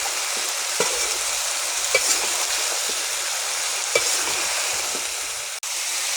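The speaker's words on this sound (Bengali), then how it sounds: "ভালো করে নেড়ে দেবো" Turmeric, salt and spices fry in a pan with potatoes and Malabar spinach seeds. A steady, loud sizzle fills the whole stretch, broken by occasional scraping taps of the stirring spoon.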